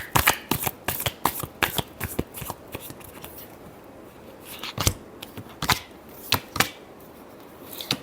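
Tarot cards being shuffled by hand, heard as a series of crisp riffling bursts and soft slaps in uneven rhythm, close and fairly quiet with no talking.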